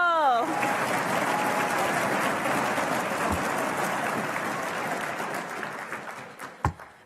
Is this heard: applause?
yes